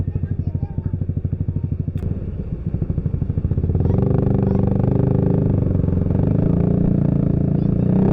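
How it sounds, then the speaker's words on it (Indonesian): A motorcycle engine putters at a low idle-like pulse, then the rider opens the throttle while climbing a hill and the engine swells into a louder, steady drone. "jadi gua harus ngegas dikit karena biar motor nggak terlalu ngeden"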